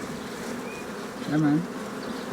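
Bees buzz steadily nearby, a constant droning hum with one insect passing closer and growing briefly louder before settling back.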